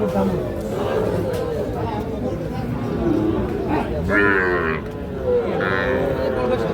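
Cattle low a couple of times amid a busy crowd at a cattle market where Sahiwal bulls are sold, with chatter and voices running throughout.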